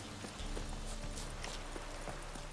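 Horse hooves clip-clopping in The Witcher video game, a steady, even rhythm of hoofbeats at moderate distance over a constant background bed of game ambience.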